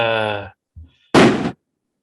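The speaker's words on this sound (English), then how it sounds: "I don't know when these fireworks are gonna stop" Fireworks going off outside around the holidays: one sharp, noisy burst that cuts off abruptly, preceded by a short muffled thump, following a voiced tone at the start.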